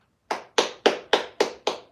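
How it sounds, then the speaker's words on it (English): Six sharp hand claps in a steady, even rhythm, close and fairly loud, each a crisp snap with a short decay and no talk between them. "I got a clap for you."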